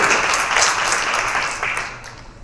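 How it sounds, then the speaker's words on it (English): An audience at a poetry festival claps together in a dense burst of applause that gradually fades out over a couple of seconds. "So give yourselves a round of applause for the potential"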